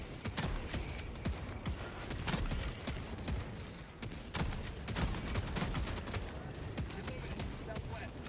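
Dense rapid gunfire from the co-op shooter Helldivers 2, volleys of sharp shots and bursts packed close together, loud and steady throughout with brief heavier cracks.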